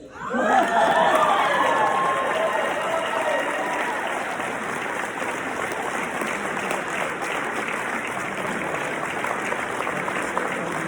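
An audience at a leadership award ceremony applauds with cheering and a few shouts, swelling quickly and then holding as a steady, full roar of clapping.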